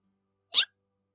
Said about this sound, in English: Sorry, weird hiccups.